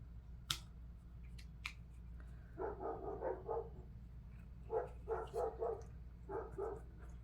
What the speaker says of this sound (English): my neighbor's dogs are barking at them